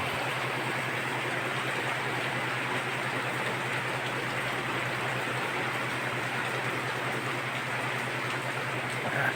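Steady, dense downpour of heavy rain in the Philippines with a constant hiss and a low hum beneath, unbroken throughout and no voices.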